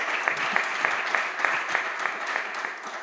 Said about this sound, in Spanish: Vamos aplaudiendo entre todos